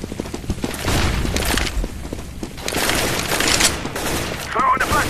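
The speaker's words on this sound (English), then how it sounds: "I'm throwing the flashbang." Counter-Strike: Global Offensive gameplay with a rapid fusillade of gunfire and bursts that may include a flashbang grenade blast, running loud and dense throughout, with a brief voice near the end.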